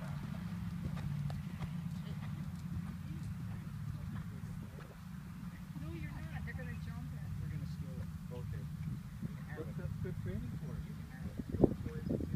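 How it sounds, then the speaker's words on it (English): A chestnut stallion moves at a walk and trot, its hoofbeats forming a steady clip-clop rhythm at moderate distance over a constant low rumble and wind, with people talking intermittently. "Somebody can still see the horse walk trot and canter."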